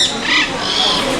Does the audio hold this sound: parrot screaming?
yes